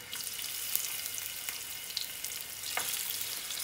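Fish for a Bengali fish head curry sears in a pan of hot oil, making a continuous close sizzle broken by a few brief sharper crackles and spits, with no talking.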